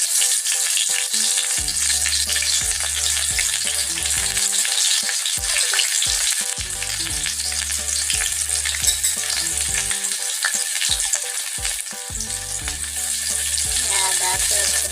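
Onions frying in a pan for a chicken and colocasia dish, a loud, steady, dense sizzle that fills the whole stretch, with occasional stirring scrapes and knocks of a utensil against the pan.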